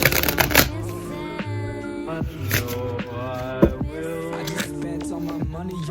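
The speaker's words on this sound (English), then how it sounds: "I just shuffled it" Cards riffle and snap together in several quick shuffles, crisp and close, with soft taps of the deck in between.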